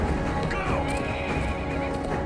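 Horses whinny in a dense, busy scene from the film Rambo: Last Blood, with hooves clattering underneath, the calls rising briefly over steady background noise.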